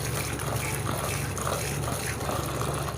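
Cold water poured over cooked rice for chicken tikka biryani, a continuous gushing pour like a running tap, fairly close and steady with no pauses.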